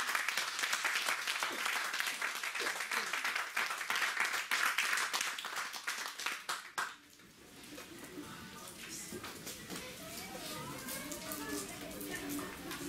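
A church congregation breaks into loud, sustained applause for several seconds, then it drops away to quieter room murmur and talk.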